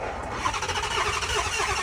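A 2006 Chrysler 300 with a Hemi V8 starts up after a jump and settles into a steady, loud, rough idle, a continuous engine roar that runs throughout.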